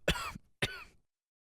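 A video game character in Spark Hearts gives two short, identical coughs in quick succession, close and clear, followed by silence.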